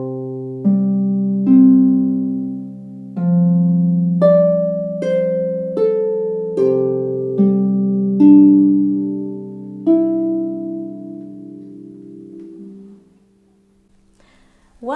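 Harp playing "The Water Is Wide" slowly with both hands: plucked notes ring out one at a time in a gentle, steady rhythm, bass tones sustaining beneath the melody, then fading to near silence at the end.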